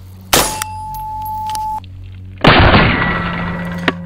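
A 14.5 mm rifle round fired in a spall and fragmentation test strikes a titanium plate with a sharp, loud crack, then a second heavy blast of noise that dies away slowly, and a small knock near the end.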